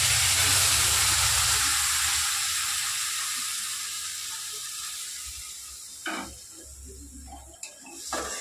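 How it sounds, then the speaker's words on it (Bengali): Milk is poured into a hot pan for a Bengali vermicelli dessert and sets off a broad, loud hiss and sizzle that slowly fades over several seconds, with faint clinks near the end. "এবার দুধটা দিয়ে দেব।"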